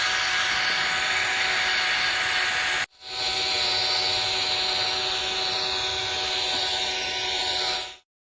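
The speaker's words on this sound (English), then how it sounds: "I can't think of anything more annoying than a drill that's just running constantly." Drill-driven polisher buffing a car's fresh Spray Max 2K clear coat, a loud constant whine that cuts out briefly, restarts and then stops.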